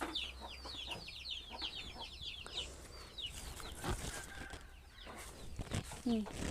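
Meat chickens and free-ranging village chickens cluck and chatter in a rapid run of short calls, with more scattered clucks later against faint outdoor background noise.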